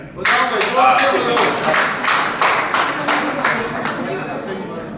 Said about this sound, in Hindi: बजा देगा ताली